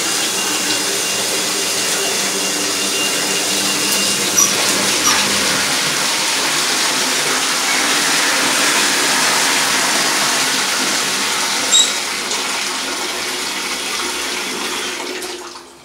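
Water runs into a bathtub in an apartment bathroom, a loud, steady rushing gush that holds for the whole stretch and eases slightly at the end, with no talking.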